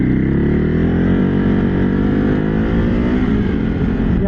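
A motorcycle with Brembo brakes is ridden hard, its engine a loud, close, continuous drone whose pitch climbs steadily as it accelerates.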